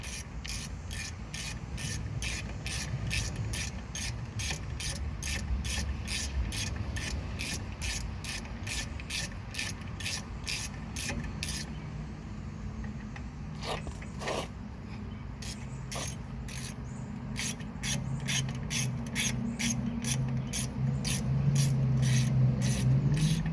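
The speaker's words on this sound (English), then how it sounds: "Get our T55 Torx and we can tighten those up." A ratchet clicks steadily as T55 Torx brake caliper bolts are tightened on a 2004 Chevy 1500 GMT800 pickup's front brakes, a long fast run of close clicks, a short pause, then more ratcheting.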